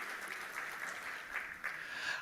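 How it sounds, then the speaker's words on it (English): Audience applause at a conference session in Muscat, Oman, a fairly soft, even wash of many hands clapping from a seated crowd, steady with slight swells. "A round of applause for His Majesty"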